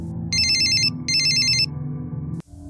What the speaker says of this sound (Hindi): सुमी ने एक ही रिंग में फोन उठा लिया था